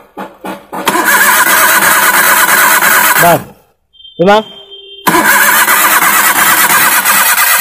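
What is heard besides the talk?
Maruti Suzuki Alto engine cranking but not starting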